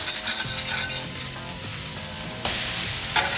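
A blackened ribeye steak is flipped in a hot pan, bursting into loud, close sizzling with scraping stirs and bumps at the start and a fresh surge of crackle midway through.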